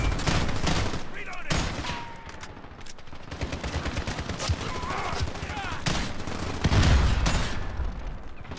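Gunfire in Call of Duty: Modern Warfare's 2019 beta Headquarters mode on PS4 Pro, with rapid bursts of automatic fire and sharp single shots that come in clusters and stay loud and close throughout, while a voice talks intermittently.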